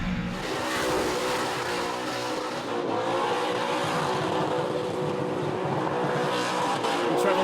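A light Toyota Corolla fitted with an LS1 V8 spins burnout donuts at a Perth Motorplex burnout contest, its loud, steady engine roar blending with continuous tire squeal and no talk.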